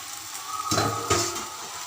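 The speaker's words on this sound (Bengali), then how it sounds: "আমি কিছুক্ষণ মশলা দিয়ে সয়াবিনগুলো কষে নেব" Soybean chunks are stir-fried with spices in a pan for a soybean dalna, a soft steady sizzle broken by two brief scraping stirs of a spatula, close up with no talking.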